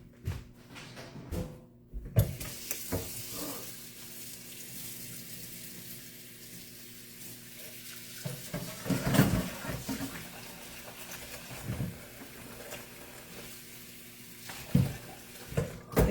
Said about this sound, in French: Et voilà, un peu d'eau dans le bol.